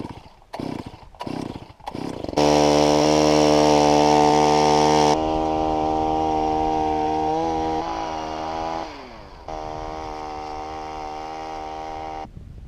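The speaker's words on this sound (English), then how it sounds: "so let's get drilling" A gas-powered ice auger drills holes for crappie fishing on a windy frozen lake: a few short revs and knocks, then a loud, steady chainsaw-like engine drone that dips under load and resumes before cutting off.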